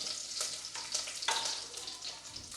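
Curry leaves fry in hot oil for a tempering, crackling with a bright, steady sizzle and a few sharper pops close by.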